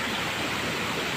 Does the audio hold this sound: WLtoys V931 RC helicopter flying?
no